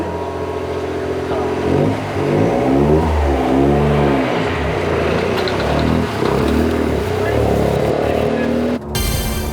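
Hydrogen-engine Toyota Corolla race car accelerating hard, the engine note rising and falling through gear changes in a loud, near, sweeping roar that cuts off abruptly at the end.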